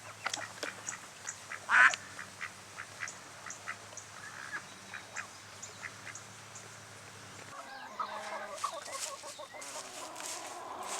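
Poultry clucking and squawking in scattered bursts, close by, with a louder squawk early on and a steady low hum underneath.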